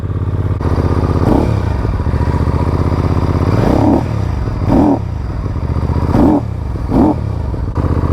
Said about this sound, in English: This is the first thing that surprised me when I started this bike up. Listen to that.